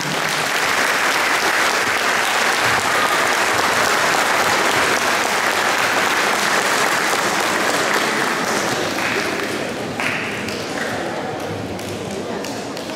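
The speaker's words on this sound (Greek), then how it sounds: "Ένα χειροκρότημα πρωτίστως για τους χορηγούς μας." A crowd at a Greek sports club's award ceremony and New Year's pie cutting claps loudly and steadily for about ten seconds, the applause thinning and fading toward the end.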